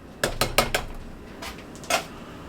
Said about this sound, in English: I'm going to add 1 can of diced tomatoes.